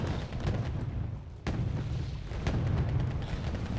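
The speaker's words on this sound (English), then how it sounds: "Naval bombardment. Never want to mess with naval bombardments." Naval bombardment shells hit during a Wargame Red Dragon battle, a loud continuous rumble of explosions with a sharp heavy boom partway through and further impacts after it.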